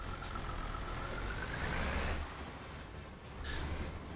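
Truck engine left idling in Euro Truck Simulator, a steady low drone that holds throughout, swelling slightly midway, with no one speaking.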